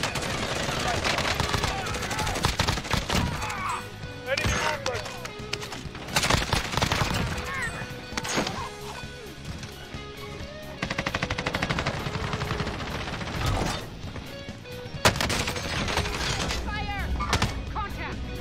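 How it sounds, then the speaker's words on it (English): Gunfire in Call of Duty Warzone, with frequent automatic bursts and single shots, some near and loud, others more distant, running throughout with occasional voices talking. "Someone shot from left side."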